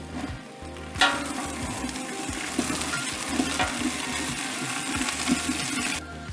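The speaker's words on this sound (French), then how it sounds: "Donc maintenant, on y met les poireaux." Leeks tipped into a pot of golden-browned onions, starting with a sudden burst at one second and then settling into a steady, close frying sizzle with occasional stirring clicks.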